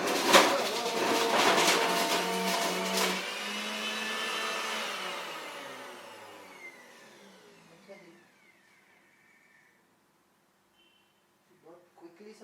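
An electric mixer blender whirs while making juice in a home kitchen, with a loud motor burst and pulsing at the start that gradually winds down and fades, followed by near silence and a few faint clatters at the end.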